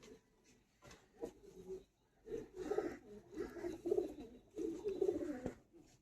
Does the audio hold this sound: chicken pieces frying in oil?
no